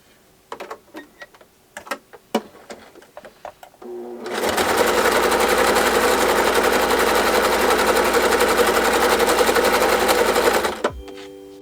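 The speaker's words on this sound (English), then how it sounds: "Now, we're just going to start by sewing these all together." A sewing machine stitches doll-quilt strips together, running in one loud, steady, continuous whir for about seven seconds before stopping abruptly, preceded by a few light clicks and handling taps, close by.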